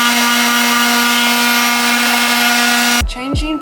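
An Ozito electric sander runs with a steady, loud mechanical whine and buzz, then is switched off near the end and winds down quickly.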